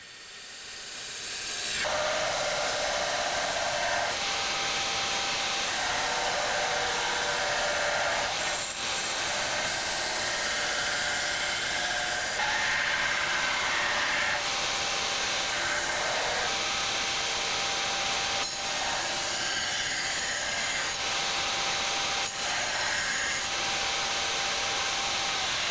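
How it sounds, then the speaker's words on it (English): A belt grinder shapes the bevel on a Damascus steel chef knife blade, giving a steady, loud abrasive hiss and whine that starts after a brief quiet moment and runs continuously with small surges in pressure, no talking. "It's time to grind the bevel."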